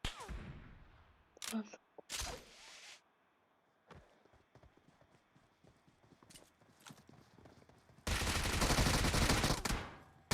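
Gunfire in a shooting video game: scattered single shots and short bursts, then a long loud sustained volley near the end, with clip-clopping hoofbeats between.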